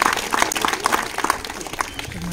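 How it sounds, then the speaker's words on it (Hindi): Audience clapping for a young cricketer at an NDRF gathering, a fairly quiet, loose patter of hands with separate claps audible, ending in low murmuring. "उनके लिए एक बार जोरदार तालियां बजाइए।"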